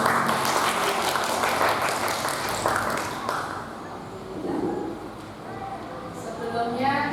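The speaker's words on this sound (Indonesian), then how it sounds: "Moga kita beri aplaus untuk" Applause fills a gathering of teachers honouring a colleague: dense, steady clapping for about three seconds that thins and fades while a voice speaks over it.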